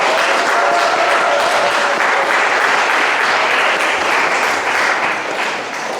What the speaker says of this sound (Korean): 우리 김동환 형제가 오늘 블루스를 처음으로 연주했는데 박수 한번 주시기 바랍니다.